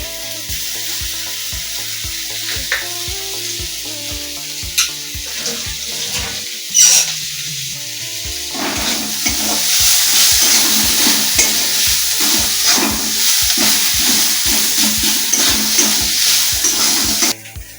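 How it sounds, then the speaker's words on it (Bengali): Tomato paste hits a hot pan and fries with a bright sizzle that swells midway, under stirring scrapes and clinks, close and with no voices. "এবার একটু টমেটোর পেস্ট দিচ্ছি"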